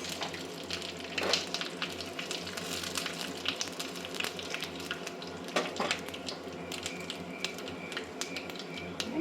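Curry leaves and dried red chillies spluttering in hot oil for a South Indian rasam tempering, a steady crackling sizzle broken by sharper pops and spits, fairly close and heard without talking.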